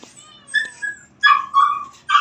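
Two young female cats, a Siberian Forest and a Persian cross about three months old, give several short high meows at a pet market, spaced apart, the later ones louder and closer.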